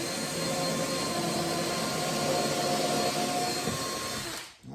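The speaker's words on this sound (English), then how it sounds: "move it before I drill it" Power drill boring a hole, a steady loud whirring drone held for several seconds before cutting off abruptly.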